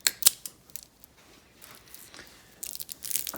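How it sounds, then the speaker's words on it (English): Side cutters snip through the plastic jacket of a Frostex heating cable, giving a few sharp, close crunching clicks with quiet handling rustle between the cuts. "so that you can cut it off with your side cutters."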